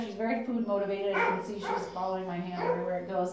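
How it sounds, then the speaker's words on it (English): A dog barks outside while someone speaks close by, the barking sitting faintly behind her steady talking. "I'm sure you guys can hear him barking on the recording here."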